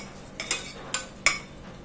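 Three or four brief metallic scrapes and clinks of a utensil against a pot, spaced irregularly over a faint background, with no voices.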